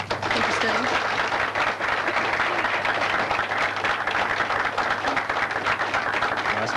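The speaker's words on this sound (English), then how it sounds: "Nice bit of applause, Jenny, and you deserve every bit of it" Audience applause for the winner of a 1984 bowling invitational tournament, loud dense clapping that fills the hall continuously from start to finish.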